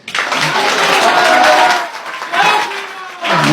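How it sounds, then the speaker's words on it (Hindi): Villagers clapping together outdoors, a dense burst of applause from a crowd that swells, dips briefly and picks up again, with voices mixed in. "मेरे एक बार गांव वालों के लिए तो आपस में ताली बजाओ यार।"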